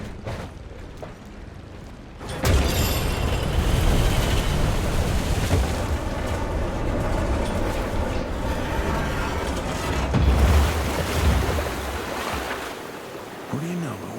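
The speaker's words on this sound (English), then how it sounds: "It worked. Water's going down." Water drains away in the Evil West video game as a steady, loud rushing and churning roar. It starts suddenly after a quiet stretch, swells midway, then tapers off.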